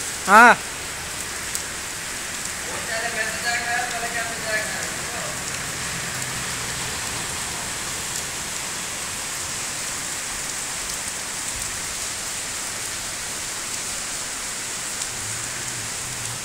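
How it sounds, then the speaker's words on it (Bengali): Heavy rain pours steadily in the Cumilla Cantonment area, a dense, even hiss that continues throughout, with a brief faint voice early on. "বৃষ্টি হচ্ছে প্রচুর পরিমাণ, তাই আমরা বাইরে বেরোতে পারতেছি না।"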